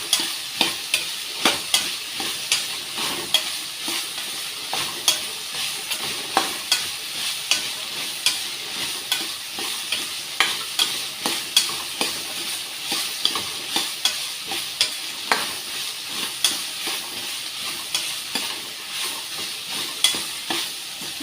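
Chayote chutney ingredients sauté in a pan with a steady sizzle, broken by regular scraping stirs every second or so, close and continuous with no talking.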